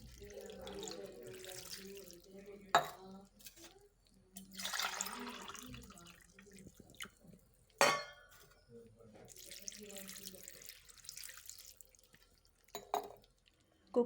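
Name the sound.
water poured into cooking pot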